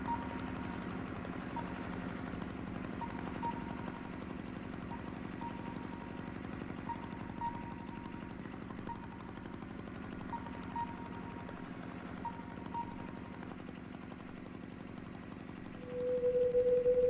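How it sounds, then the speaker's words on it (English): Engines run in a steady low, vibrating drone for the whole stretch, with a faint periodic whine, and a higher tone rises near the end. "Engines."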